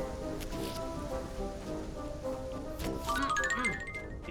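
Steady rain in the Yooka-Laylee video game, a soft, continuous hiss of falling drops layered under tinkling game music, with brighter chimes rising near the end.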